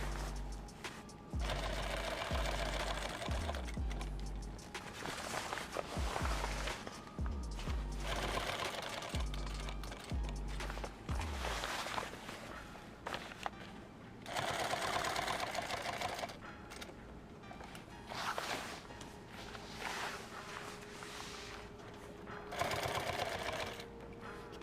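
Sewing machine stitching a kit bag, with long runs of rapid close mechanical stitching broken by short pauses and repeated fast bursts, some quieter stretches, and a voice faintly underneath.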